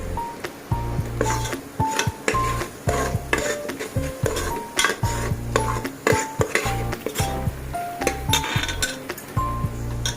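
A spoon scrapes and clinks steadily against a pan as Agri masala roasts in oil, with repeated metallic taps and a soft sizzle underneath.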